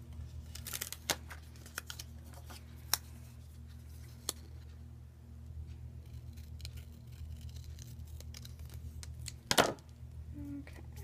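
Scissors snip through a paper planner checklist sticker up close, giving a few sharp, scattered cuts and one louder crisp snap near the end over a steady low room hum.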